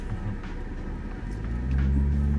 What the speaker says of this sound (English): All I'm hearing is the engine.